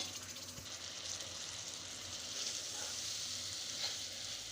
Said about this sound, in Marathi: बारीक गॅसवर साधारण एक दोन मिनिट चवळी मस्त अशी फ्राय करून घ्यायची